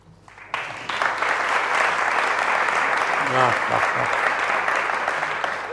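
An audience at a music interview event applauds, with clapping that starts abruptly and stays full and sustained while a voice speaks briefly over it.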